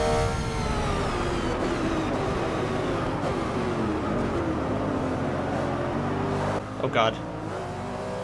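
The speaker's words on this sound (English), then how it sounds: "Just the sound of the engines of the cars." Car engines in the Forza 6 racing game drone steadily through a Rolex 24 GT race with a Lamborghini ahead, a dense continuous roar shifting gently in pitch, and a man exclaims briefly near the end.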